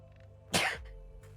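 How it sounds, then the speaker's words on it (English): A single sharp sneeze bursts out mid-clip over a quiet background hum, brief and fairly close, with no speech. "I had a sneeze"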